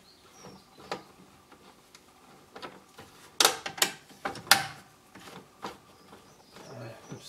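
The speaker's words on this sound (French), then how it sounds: "Donc là maintenant je retire les deux petites vis qui vont bien." Two small screws being removed from the door locking mechanism of a 1997 Renault Twingo, giving scattered faint clicks, ratchety ticks and metallic taps with quiet pauses between, close and soft.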